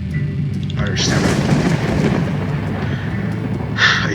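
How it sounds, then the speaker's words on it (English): A thunderclap from a thunderstorm in the video game Everlasting Summer booms loudly and rolls for a few seconds, a broad rumbling crash with a faint hiss of rain. "A thunderstorm rattling in the clear sky."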